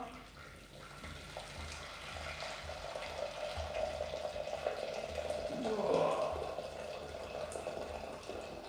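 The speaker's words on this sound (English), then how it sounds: "now we're going to put about 1 litre of water" Roughly a litre of water poured steadily into a saucepan holding a stock cube while making ramen soup, a continuous faint rushing splash that swells slightly near the end over low kitchen background noise.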